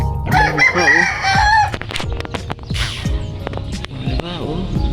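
A backyard gamecock rooster crows loudly and close by, with further crowing, clucking and scattered knocks and shuffling around it.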